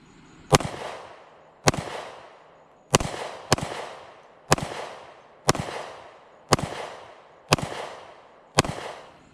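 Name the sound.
EAA Tangfolio Witness Compact 10mm pistol gunshots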